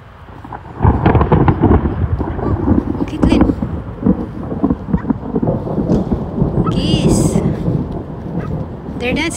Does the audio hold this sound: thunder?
yes